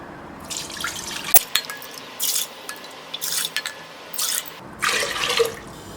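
Water goes into a pressure cooker in several separate splashy pours and drips, about four and a half cups for three cups of rice when making chicken biryani, close and fairly quiet.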